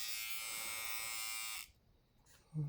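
Xiaomi UniBlade electric trimmer running with a steady, bright buzzing hum for about a second and a half, close up, then switching off into quiet handling noise.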